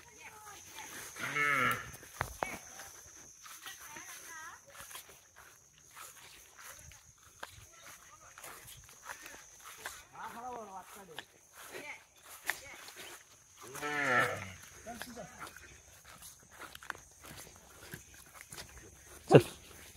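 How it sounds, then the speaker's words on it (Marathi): Young calves in a village moo a few times with separated calls, mixed with people talking nearby and some footsteps on the ground. "ते बघ गेले वासरू"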